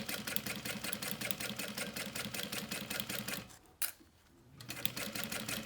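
A sewing machine stitches a zipper seam on fabric with a fast, even mechanical chatter. It halts briefly with a soft click and pause, then starts stitching again, close and alone.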